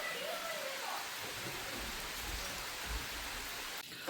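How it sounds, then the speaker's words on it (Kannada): Steady rain pours down in Sakleshpur, a dense continuous hiss of falling water with occasional low rumbles, heavy and close throughout. "ಮಳೆ ಬಂದ್ಬಿಡ್ತು"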